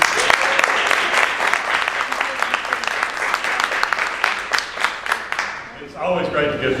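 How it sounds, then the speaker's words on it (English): A crowd gives a speaker applause at an Oasis gathering before his talk begins, with a dense burst of clapping carrying on for several seconds before fading out as a voice starts speaking. "It's always great to give you applause before you begin."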